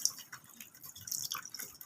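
Hot water drains from boiled pumpkin in a strainer, a soft, irregular patter of drips and trickles, faint and close, with no talking.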